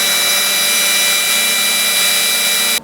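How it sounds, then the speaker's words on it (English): A power drill bores holes in wood for a custom-built fretless bass, a continuous loud high whine held steady for a few seconds before stopping abruptly. "we're gonna drill the other holes now"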